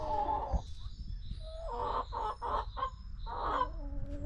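Backyard hens cluck and murmur in short bursts with a rising squawk or two, close by and with no talk over them.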